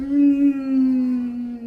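A dog gives one long, loud, sustained howl in a steady tone that slowly falls in pitch, close by and alone with no talk over it.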